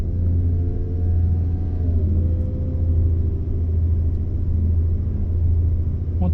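A heavy truck engine in Euro Truck Simulator 2 drones with a deep, steady low rumble heard from a quiet cab, continuous and unchanging, with no voices over it.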